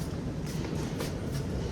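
A subway train rumbles steadily into a station on University Avenue in downtown Toronto at rush hour, a continuous low roar with faint hissing and clattering layered on top.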